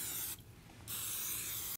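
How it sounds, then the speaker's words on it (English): Cooking spray hisses onto a brand new waffle iron in a studio kitchen, two short bursts of faint airy spray separated by a brief pause, with no voices over them. "I'm gonna spray now, this is a brand new waffle iron"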